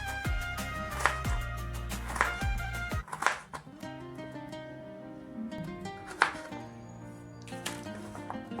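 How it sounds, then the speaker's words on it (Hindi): A knife chops peeled kohlrabi into small pieces: about half a dozen sharp, close knocks land at irregular intervals over a steady tonal background. "इस तरह करके मैं छोटा छोटा करके मैं कट कर लेंगे"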